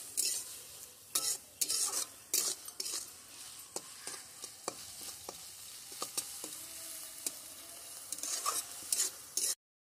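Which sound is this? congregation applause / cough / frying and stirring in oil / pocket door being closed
frying and stirring in oil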